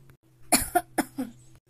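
A quick burst of four harsh coughs, close and loud, one after another within about a second.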